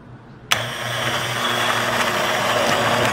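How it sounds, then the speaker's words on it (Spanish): An immersion blender pureeing hot food switches on abruptly at low speed and settles into a steady, loud motor whir that runs to the end without a break. "ahora con la batidora de toda la vida, ¿vale?, vamos a ir triturando"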